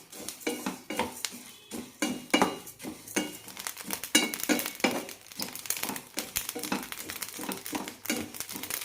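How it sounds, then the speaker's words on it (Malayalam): Washed, drained raw rice and black rice roast in a pan, with a spatula clattering and scraping against the metal amid a busy, crackling rustle of grains being stirred. "അരിയൊക്കെ പൊരിയാൻ തുടങ്ങിയിട്ടുണ്ട്."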